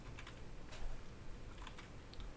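Computer keyboard typing, a few quick clusters of key clicks over a steady low background hum, moderately close and fairly quiet, no voices.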